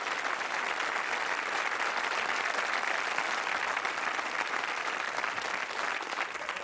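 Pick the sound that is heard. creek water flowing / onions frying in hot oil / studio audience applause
studio audience applause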